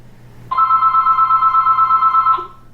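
A single electronic phone ringtone sounds for about two seconds, a steady pulsing tone that starts abruptly and cuts off, loud and close with a faint low hum beneath it.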